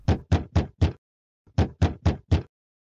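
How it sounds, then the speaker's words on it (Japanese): A hotel room door is knocked on repeatedly by a room attendant: two loud, close bursts of four evenly spaced raps each, separated by a short pause, with no voices. "ホテルの客室係が電報を持って、岩瀬氏の部屋のドアを何度も叩いている。"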